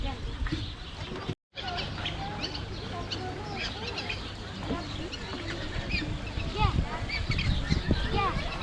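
Black swans call at a wildlife park, with honking, trumpeting bird cries scattered throughout amid other bird chatter and background voices, fairly close and moderately loud.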